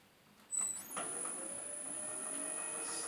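A wood lathe spins up to about 1200 RPM for turning a zebrano bowl, a close motor hum with a steady high whine rising after a short clunk and holding evenly to the end.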